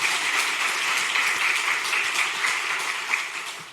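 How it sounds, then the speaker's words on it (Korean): A church congregation applauds the choir after a service, with steady dense clapping from many hands filling the hall before tapering off at the close. "박수 한번 쳐주세요"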